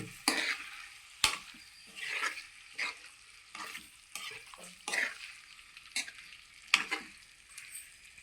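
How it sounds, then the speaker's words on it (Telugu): Liver curry stirred in a pan with a spoon, giving irregular scraping strokes and clinks over a soft, continuous sizzle, close and fairly quiet, with no talking. "ఇది బాగా మిక్స్ చేసుకోవాలి"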